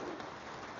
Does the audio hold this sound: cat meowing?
no